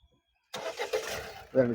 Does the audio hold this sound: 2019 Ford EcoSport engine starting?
yes